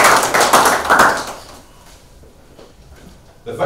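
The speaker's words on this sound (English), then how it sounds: "Let's give him a round of applause." Applause at a Toastmasters club meeting in Nyeri: a short burst of close, brisk clapping from a small group that fades out after a second or so, leaving quiet room noise and a few faint taps.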